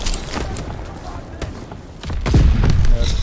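Gunfire with incendiary bullets booms and thuds in the video game Call of Duty: World War II, loud and cluttered, with heavier blasts rising near the end under a busy mix.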